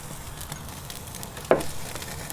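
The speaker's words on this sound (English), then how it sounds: "What I'm going to do is apply some clarified butter" Clarified butter sizzles on a porterhouse steak in a Primo BBQ cooker: a steady, close hiss with a sharper spurt of crackle midway and no talking.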